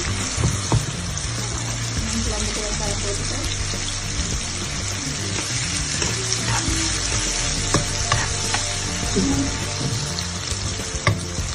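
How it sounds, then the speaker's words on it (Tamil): Mustard seeds and onions fry in hot oil for a seer fish curry, a loud steady sizzle with scattered pops and stirring scrapes from a pan, close up. "கடுகு போட்டுட்டு வெங்காயம் போட போகிறேன் ரெண்டு வெங்காயம்"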